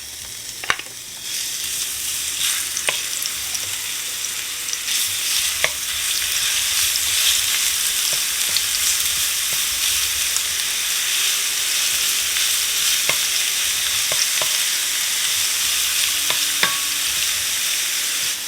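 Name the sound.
crushed garlic frying in olive oil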